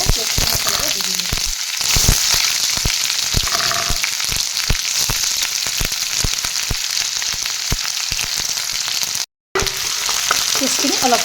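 Spice paste sizzles and fries steadily in a hot kerahi already holding cloves, cardamom and cinnamon, for an Assamese-style pigeon curry, with a continuous crackling hiss broken by sharper spatters and stirring scrapes and one brief dropout near the end.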